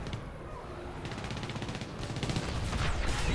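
Tank cannon and machine-gun fire from a battle in the game War Thunder with American tanks such as the T34, T26E5 and M41A1: rapid bursts and crackling volleys that build louder toward the end, with a voice faintly underneath.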